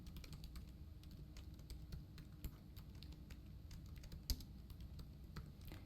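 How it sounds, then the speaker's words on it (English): Java code being typed on a computer keyboard: a continuous run of quick, light key clicks at close range, with a couple of slightly louder taps and no talking. "Now I'm going to type in another JOptionPane.showMessageDialog."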